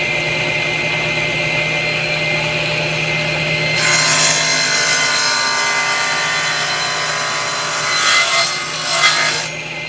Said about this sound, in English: All I've got to do is put a board in and slide it through the blade.